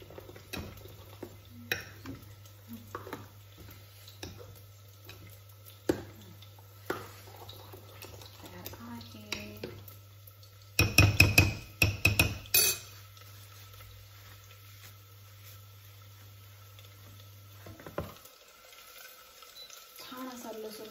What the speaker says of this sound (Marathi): ही भाजी जेवढी तुम्ही हटवाल तेवढी चवीला छान लागते